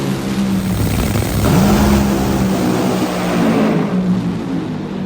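A Top Fuel dragster's engine roars loud and close at a drag race, its pitch climbing as it accelerates down the track in one sustained, dense blast.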